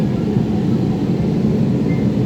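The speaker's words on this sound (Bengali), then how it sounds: "আমরা মেট্রোতে আছি, মেট্রোতে।" A steady, loud low rumble fills the inside of a moving metro train, continuous and even with no voices.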